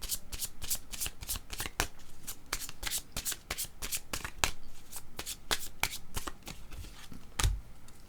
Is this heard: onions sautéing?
no